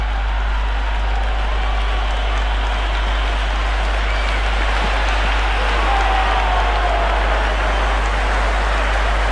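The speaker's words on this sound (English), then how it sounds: "It's evident and ever so audible that the crowd is at near bursting point at today's play." Dense, steady roar of a large cricket stadium crowd during a Sri Lanka versus England one-day international, continuous broadband cheering and noise without a clear break, loud and enveloping.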